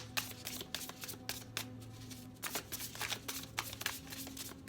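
Tarot cards are shuffled by hand in a run of quick, close riffling bursts, each a crisp papery flutter, over a low steady hum.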